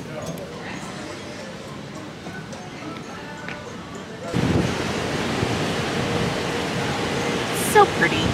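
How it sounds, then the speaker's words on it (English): Strong wind buffets the microphone on the open deck of a cruise ship in Alaska, a steady broadband roar that jumps louder midway and keeps gusting to the end. "The wind is so strong."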